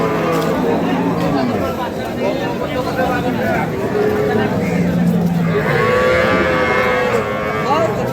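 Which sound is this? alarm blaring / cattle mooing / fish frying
cattle mooing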